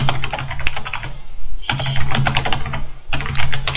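Rapid typing on a computer keyboard comes in close, crisp bursts of clicking keys, with two brief pauses between runs of keystrokes.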